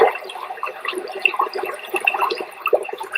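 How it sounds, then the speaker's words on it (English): Water from a relaxing forest river recording churns and gurgles like a flushing toilet, heard as bubbly, uneven splashing that plays continuously at moderate volume, with no voices. "It does sound like someone's flushing."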